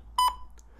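A BT talking clock time pip sounds over a phone speakerphone, a single short, clear electronic beep at a steady tone, followed by a faint tail in a quiet room.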